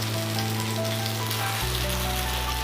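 Fish frying in a pan for a Kerala meen pollichathu, a steady close sizzle with a low hum underneath that drops and shifts partway through, no voices.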